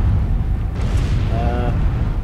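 Explosions in the space video game Star Trek Online rumble as a continuous, loud blast roar with a brief electronic tone partway through.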